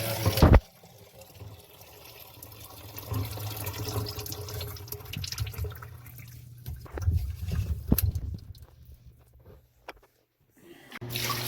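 Water running and gurgling down an open drain at a cabin being shut down for the season, with the plumbing drained. A steady low flow continues throughout, with a few sharper splashes and knocks, then briefly drops away before resuming.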